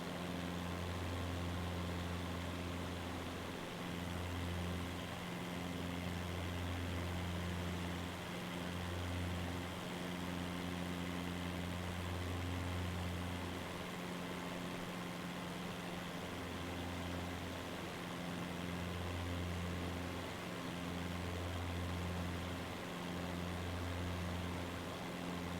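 A small bush plane's engine drones loud and constant in flight over rolling Swiss countryside, running over-revved, with a slow, rhythmic low throbbing beneath the steady hum.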